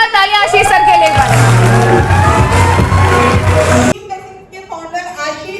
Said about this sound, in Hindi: एक बार जोरदार तालियां आशीष सर के लिए.